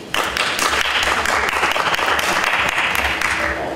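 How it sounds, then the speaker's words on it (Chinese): Warm applause from the mayor and city officials in a city council chamber, a dense, close burst of many hands clapping that starts abruptly and carries on steadily until it cuts off. "无党籍基隆市议员吕美玲的质询获得市长谢国良和市府官员热烈掌声"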